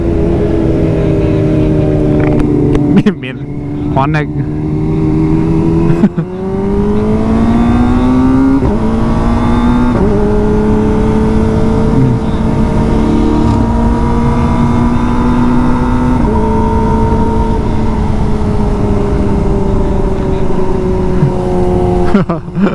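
A Kawasaki ZX-25 motorcycle engine revs loudly and close for a long stretch, pitch climbing and settling through repeated throttle blips, with brief voices in between.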